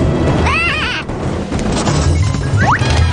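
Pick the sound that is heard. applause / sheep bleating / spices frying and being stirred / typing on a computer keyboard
sheep bleating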